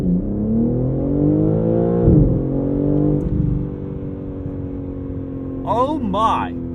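BMW M3 Competition xDrive launching hard under launch control, engine revving up through rising harmonic pitch sweeps with a sharp drop at a gear change, then a voice exclaims over the lowered drone near the end.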